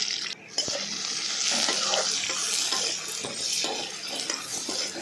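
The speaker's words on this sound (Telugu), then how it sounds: "ఉల్లిపాయలు బాగా నేగుతున్నాయి" Chopped onions fry in hot oil in a pan, giving a steady, close, bright hiss of sizzling with a few soft stirring knocks and scrapes throughout.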